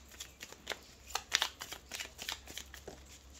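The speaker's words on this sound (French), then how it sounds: "on va faire un tirage en 13 cartes avec le nouvel Étéia" Oracle cards from an Etteilla deck are shuffled by hand for a 13-card tarot draw: a close, steady run of crisp papery flicks and riffles with small bursts of louder snaps, and no talking.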